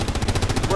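Rapid automatic gunfire laying down cover fire in a video game, a loud, fast, even burst of shots close up.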